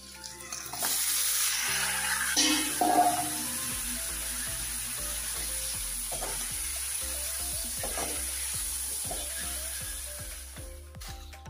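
Green chillies, onion, fish salt, coriander leaves, cumin, turmeric, coriander powder and a little dried chilli frying in a pan, sizzling steadily with scattered stirring scrapes and clinks, loud at first and then settling.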